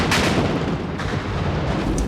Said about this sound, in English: a cluster bomb went off. The explosions of the multiple bomblets, which contained ball bearings, echoed for 15 seconds.